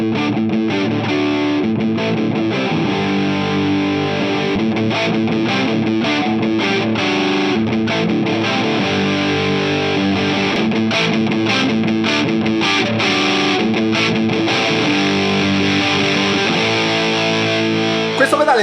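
An electric guitar played through a Xotic SL Drive overdrive pedal chugs out dense, crunchy distorted chords and riffs continuously while the pedal's tone knob is gradually turned, changing the brightness of the sound.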